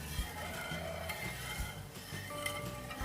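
Cornflour halwa mixture for Bombay Karachi halwa stirred in a pan, with a low sizzle and soft scraping strokes of the spoon, close and quiet, no voices.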